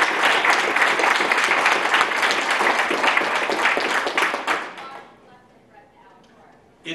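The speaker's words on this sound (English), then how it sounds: "a quick round of applause" An audience at a comics scholarship panel at MICE 2016 applauds loudly with dense, sustained clapping for several seconds, then fades out into quiet.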